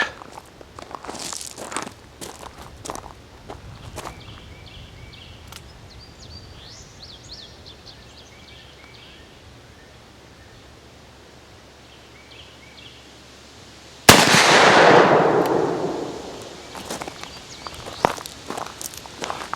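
A single loud shot from a Ruger Redhawk .44 Magnum revolver, fired at a gallon jug 50 yards away outdoors, cracks sharply after quiet footsteps and rustling, then echoes away over a couple of seconds.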